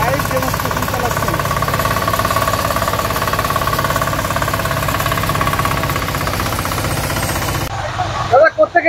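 An RBW diesel power weeder, a mini power tiller, runs at a constant loud, rapid chugging rattle for several seconds, then cuts out with a few short knocks at the end.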